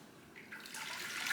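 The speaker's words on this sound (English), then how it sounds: "I'm actually gonna pour this in here." Liquid pours into a container during Thanksgiving food prep, a soft hiss of splashing that grows steadily louder over about a second, with no talk.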